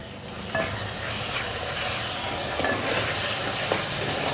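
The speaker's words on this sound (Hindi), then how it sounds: "इसी के साथ बैंगनों को भी और साथ मसाले भी भुने जाएंगे अच्छे से।" Eggplant and spices frying in a pan, a continuous moderate sizzle with a few scraping stirs of a spoon.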